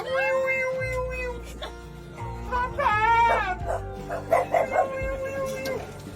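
Rescued dogs taken from high-kill California shelters bark, yip and whine in short bursts while excited people talk over them.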